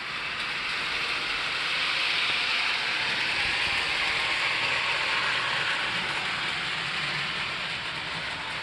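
A PLC-controlled model train runs steadily along its track with a continuous, even rolling hiss at close range and no voices.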